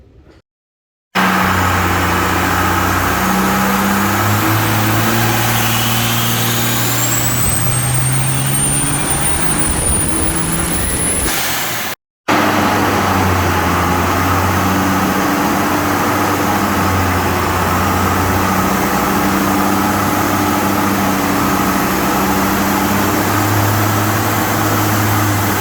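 Second-generation Dodge diesel truck with an 800hp P-pump 12-valve engine running hard on a dyno, a loud sustained roar with a rising turbo whistle, a brief cutout, then a steady drone that continues to the end.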